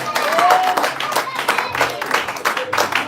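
A church congregation claps and cheers in praise of the Lord, a dense, continuous wash of applause with crowd voices rising through it.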